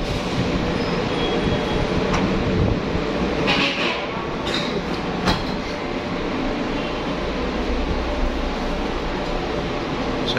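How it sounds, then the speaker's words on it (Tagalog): LRT train at Balintawak Station in Manila rumbles steadily with rail noise and a few short squeals or clanks, fairly close, with faint talk in the background. "So diyan tayo sasakay mga idol sa LRT na yan."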